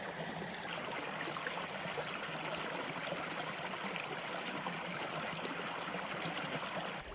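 A cold creek in the woods flows in a steady, soft rush and trickle that continues evenly throughout, with no voices.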